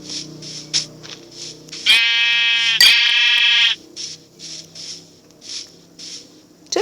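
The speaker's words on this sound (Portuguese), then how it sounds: "Aqui é uma ovelha." A Minecraft sheep gives a loud, drawn-out synthetic bleat, then a second short one, set against repeating game sound effects and faint chiming in the background.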